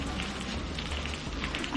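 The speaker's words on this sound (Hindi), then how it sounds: "बारिश आ गई" Rain patters steadily on a surface, a dense close hiss with soft crackling drops and a low rumble underneath.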